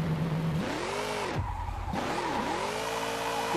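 A car drifts in Car Parking Multiplayer, its engine droning and revving in swooping pitch sweeps while the tires squeal loudly and continuously through the slide.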